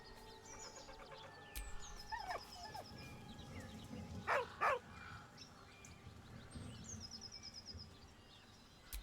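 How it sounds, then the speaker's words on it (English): A dog in the video game Baldur's Gate 3 whines in a few short, high, wavering cries, followed by a couple of sharper yelps, quiet and close over a faint background ambience with occasional bird-like chirps. "With a deep, heartbroken whine, the dog bows his head."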